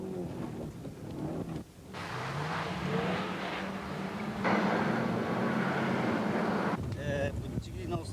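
A 1990 Toyota Starlet race car runs on a snow-covered Tsukuba track, its small, light engine droning steadily with a rising tone under a continuous wash of wind and road noise while a commentator talks over it.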